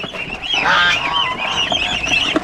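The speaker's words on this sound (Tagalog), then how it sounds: "yung ating mga alaga na pato" Loud, continuous honking and quacking from a flock of ducks close by, overlapping calls with no talking.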